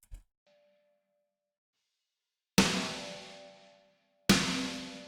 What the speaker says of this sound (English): we just have the snare and the room sound.